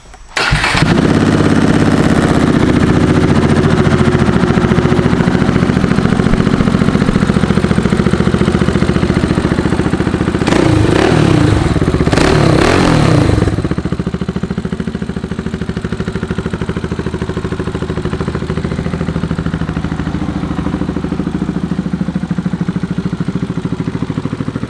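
A 2014 KTM Duke 690 motorcycle cranks and fires up loudly nearby, then settles into a steady, throbbing idle, with a short burst of revving partway through and no talking.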